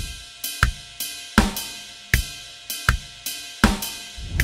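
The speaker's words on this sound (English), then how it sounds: "step 2 is we're just gonna add a simple backbeat on the snare drum that sounds like this." A drum groove in the style of a rock drummer, with steady kick drum quarter notes and a sharp snare backbeat, plays alone as crisp, evenly spaced hits ringing close and loud.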